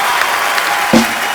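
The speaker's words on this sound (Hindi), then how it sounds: "तो जोरदार तालियों से स्वागत कीजिए सुपर डांसर्स के सुपरस्टार मासूम" A studio audience applauds on a Hindi comedy talk show, a short, steady burst of clapping heard close and fairly loud, with no talk over it.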